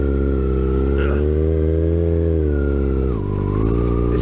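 A sportsbike pulls away in first gear, its engine note rising steadily and loud and close, with a brief dip as revs shift before climbing again.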